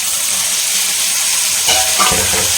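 Tomatoes fry in a pan for a tamarind fish curry, a loud continuous hiss of sizzling oil with a few stirring scrapes and bumps near the end.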